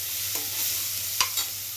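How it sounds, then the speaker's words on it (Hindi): Tomato and onion masala for Maggi fries in a pan with a steady bright sizzle, broken by a couple of stirring scrapes of a spoon against the pan, close by and with no voices. "तो हमारी मैगी का मसाला का मसाला हो रहा है यहाँ पे, थोड़ा सा रेड हो गया"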